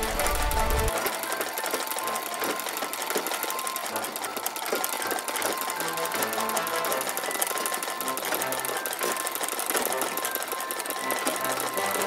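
A sewing machine embroidering with thread runs continuously at a fast, even stitching rhythm, a loud mechanical rattle close by that holds steady throughout with no talking.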